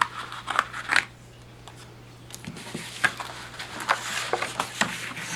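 Scissors snip the corners of paper for a small handmade album, a few sharp close cuts in quick bursts with quiet handling rustle between them, no talking.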